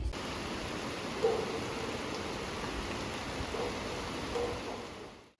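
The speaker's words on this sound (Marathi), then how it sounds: "खूप पाऊस पडतोय इकडे" Heavy rain pours steadily as a dense, even hiss, with no voices, fading out at the end.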